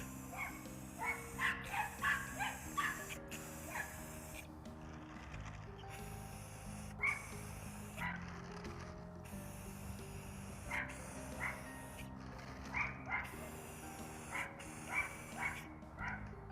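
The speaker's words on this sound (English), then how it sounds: "Sorry about my barking neighbor dogs." Neighbor's dogs bark repeatedly in short clusters at a distance, faint and intermittent, over a low steady hum and occasional background noise.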